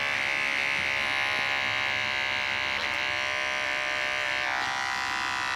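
An electric neck trimmer clips the hair between a dog's paw pads, giving a continuous close, steady buzzing whir throughout.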